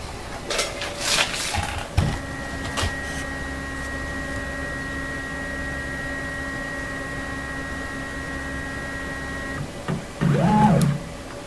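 A CNC machine lowers its tool toward a touch plate for an auto zero, giving a steady electronic motor whine that holds for several seconds, preceded and followed by a few clicks and a brief tonal beep near the end.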